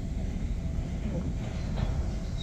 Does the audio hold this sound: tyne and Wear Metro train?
yes